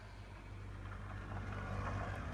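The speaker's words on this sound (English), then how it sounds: "Just got a few cars driving past me," Several cars pass along a nearby road outdoors, a steady low rumble of traffic that swells slightly toward the end, heard alone with no talk.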